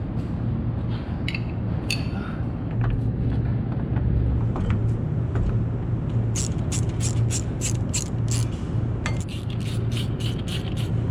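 Ratcheting clicks in quick bursts as U-bolts are tightened on a custom Ford 8-inch rear end going into a Kei truck, the sharp metallic clatter sitting over a steady low hum of shop or vehicle noise.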